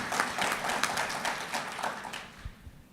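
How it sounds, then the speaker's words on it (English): Audience applause fills a conference hall at the opening of a welcome address at the Africa Center for Strategic Studies, dense clapping from many hands that thins out and fades over about three seconds. "That wasn't meant as an applause line, but thank you."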